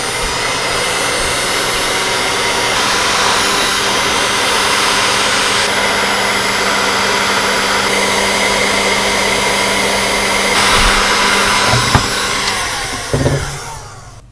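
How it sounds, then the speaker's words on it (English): The brushless motors of an Eachine Tyro99 quadcopter kit spin together in a loud, steady whine, with the pitch stepping up and down a little before they wind down with a few thumps near the end. "I'm fairly happy that the motors are all spinning up right"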